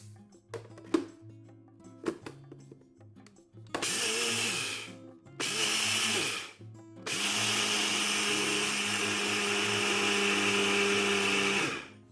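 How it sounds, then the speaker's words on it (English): A spice grinder crushes mustard seeds into a coarse grind, running in loud, steady whirring bursts: two short pulses, then a long continuous run after a few quiet, faint knocks. "today I'm taking the lazy way out and using a spice grinder"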